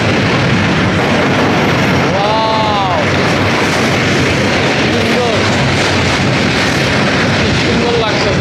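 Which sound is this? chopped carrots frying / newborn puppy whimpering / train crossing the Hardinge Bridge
train crossing the Hardinge Bridge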